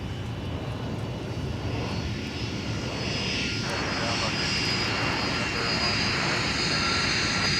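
Airliner taking off from a runway at Minneapolis–Saint Paul airport, a continuous broad engine roar that holds steady and swells slightly, heard from a distance.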